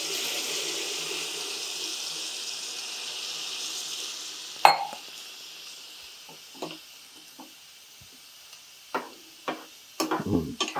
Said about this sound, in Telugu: అది ఇప్పుడు చూడండి నీళ్ళు పోసేస్తున్నా.